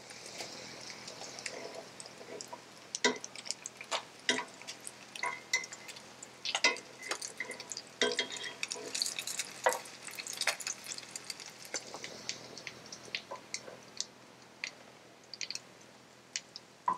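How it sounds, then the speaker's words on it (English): Salmon croquettes brown in butter in a skillet, a faint soft sizzle broken by frequent sharp clicks and scrapes of a utensil turning them, quiet overall with no speech. "So what we're gonna do is brown them on every side"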